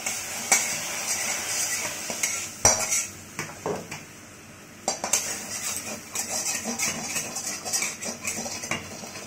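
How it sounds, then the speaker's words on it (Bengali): Ghee tempering poured into simmering khichdi in a pot, followed by close metal stirring and scraping with a brief sizzle, clinking utensils and a few sharp knocks. "এবার ফোড়নটা খিচুড়িতে দিয়ে দেওয়া হলো।"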